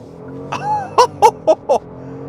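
A 2026 Genesis GV70 3.5T Sport Prestige accelerates hard in Sport Plus mode, heard from inside the cabin: a rising engine note, then a quick run of four sharp, evenly spaced bursts.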